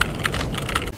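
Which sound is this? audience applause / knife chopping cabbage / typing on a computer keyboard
typing on a computer keyboard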